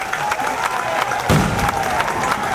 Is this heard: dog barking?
no